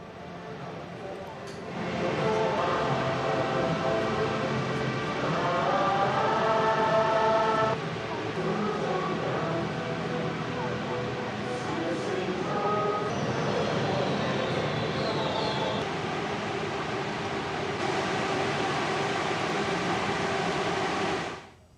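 A Shinkansen bullet train rushes past with a steady broad roar and rumble, rising at the start and fading abruptly at the end.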